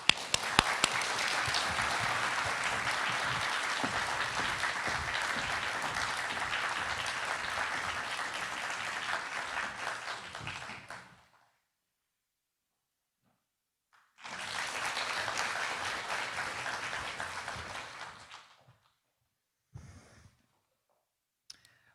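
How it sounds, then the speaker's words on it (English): Warm audience applause welcoming an ambassador to the podium at a politics and diplomacy event, a full sustained burst of clapping that stops, then a second shorter wave of applause before fading to silence. "round of applause."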